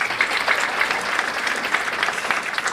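Graduation audience at a university recognition ceremony for an education leadership doctoral cohort applauding steadily, a dense even wash of clapping lasting throughout at moderate distance, with no voices over it.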